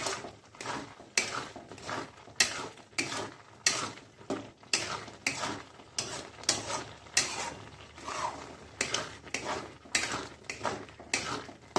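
Carrot halwa cooked with ghee and milk is stirred in a metal pan, giving steady rhythmic scraping strokes roughly every second, close and fairly soft, with no talking.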